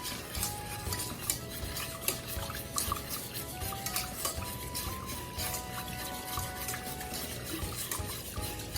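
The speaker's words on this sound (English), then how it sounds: "we will begin the whisk process of just whisking it all together. Keep whisking." A whisk beating bread pudding mixture of sugar and liquid in a bowl, rapid rhythmic scraping clinks against the bowl repeating steadily and close, with no talk.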